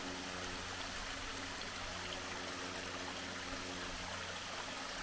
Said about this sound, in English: here's that other waterfall I was talking about. This is just a small cascading waterfall